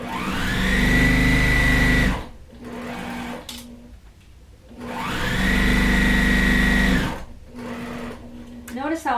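A sewing machine stitches pieces of a churn dash quilt block in two loud close bursts of whirring, each about two seconds long, with quieter handling sounds between them.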